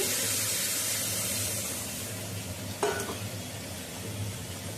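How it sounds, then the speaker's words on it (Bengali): Pointed gourd fries in hot oil, a soft continuous sizzle and hiss with a brief clatter partway through. "একটু পটলটা কড়া ভাজা হলে তো খেতে ভালো লাগে।"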